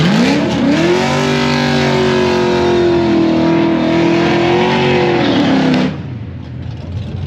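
A loud Harley-Davidson twin-cam motorcycle engine revs and holds at high pitch for several seconds, then drops off abruptly near the end.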